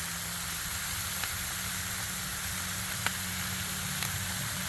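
Taylor ham and thick bacon frying on a Blackstone griddle give off a steady, even sizzle and hiss throughout, with a few faint pops and no voices.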